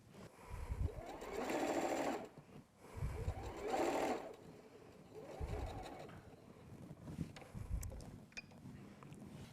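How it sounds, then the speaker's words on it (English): Sewing machine stitching a fabric sleep mask with a 1/4 inch seam allowance, running in four bursts of steady motor whir separated by short pauses, close and fairly quiet. "So we're going to let you sew."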